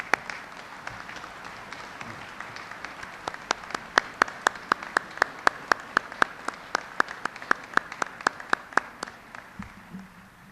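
A ceremonial audience applauds veterans' national leadership, a soft wash of many hands with one or two close, sharp clappers beating out a fairly regular rhythm throughout before it tapers off.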